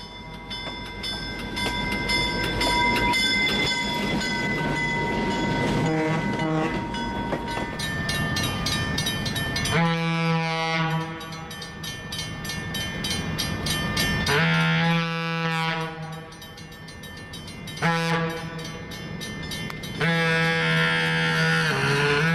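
Nohab diesel locomotives and F9 units running, with loud engine drone, horn-like tonal harmonics and rail noise continuing throughout, shifting in intensity as the units pass.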